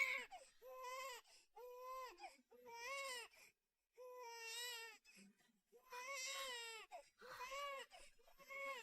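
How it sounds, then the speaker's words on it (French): A baby girl cries in repeated wailing bursts with short gasping pauses, loud and close, with no talking. "Tu as entendu? C'est ta fille qui pleure."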